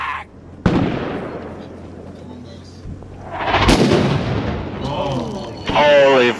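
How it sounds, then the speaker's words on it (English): Mortar shells land in the video game Six Days in Fallujah as loud booming explosions with rumbling decay, one sharp blast followed by a longer roaring impact, with people talking and shouting between them. "Mortars, hit the deck!"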